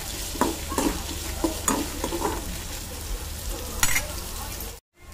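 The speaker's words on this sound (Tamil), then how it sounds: "அஞ்சாறு பல்லு பூண்டு, அதுக்கப்புறமா வரமிளகாய், இதெல்லாம் சேர்த்து நல்லா வதக்கி விட்டுக்கலாம்" Garlic cloves and dried red chillies sautéing with onions in a pan, a steady close sizzle broken by several scraping stirs of a spatula, with no voices.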